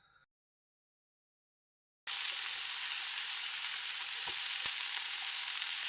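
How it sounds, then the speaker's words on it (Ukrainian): Steady, loud sizzling of vegetables frying in a little oil in a pan, beginning after a short silence and continuing evenly with a few faint clicks. "Підготовані овочі обсмажимо. На сковорідку трошки олійки"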